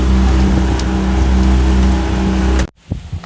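A sailboat's motor drones loud and steady for a few seconds while motoring down the Florida coast toward the Okeechobee canal, then cuts off abruptly, leaving faint background sounds.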